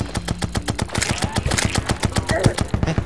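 Rapid, evenly spaced shots fire from a harpoon in Terraria, a fast mechanical burst of sharp repeated pops that runs nonstop and sits close and loud.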